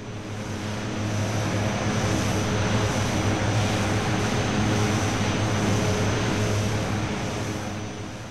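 An F-14 Tomcat in Flight Simulator X landing and taxiing, with a steady loud simulated jet engine roar holding level throughout, broadband and continuous without voices.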